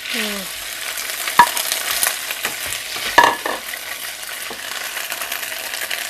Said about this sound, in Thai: เรามาผัดเส้นบุกกันเลยนะคะ